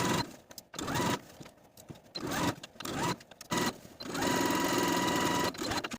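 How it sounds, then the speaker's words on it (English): A home sewing machine runs a topstitching row down the folded outer edge of a dress placket for a Simplicity S9742 collared dress, in short whirring bursts with brief pauses, then one long steady run near the end. "We're going to do an additional row of stitching all along the folded outer edge of the placket from top to bottom"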